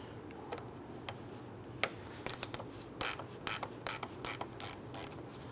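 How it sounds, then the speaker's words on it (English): Rapid ratcheting clicks in short bursts come from a gear wrench ratchet with a 10mm socket loosening the alternator terminal nut on a 2002-2008 Dodge Ram 1500, close and fairly quiet over a steady background hiss. "we're going to use our 10mm socket on our gear wrench."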